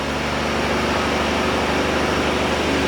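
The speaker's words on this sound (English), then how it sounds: "It's idling kind of high." A 1962 AMC Rambler engine runs at a fast idle, a steady droning, constant close rumble and whir with no change in pitch and no talking.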